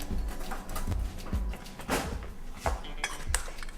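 A metal spoon and dishes clink and clatter in a few scattered, close knocks while sandwiches are being made, with faint background noise and no speech.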